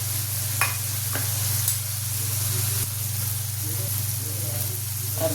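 Spices, chutney and turmeric fry with moong mogar dal and tomato vegetables in a pan, a steady hiss and sizzle with occasional stirring taps over a constant low hum, close and even.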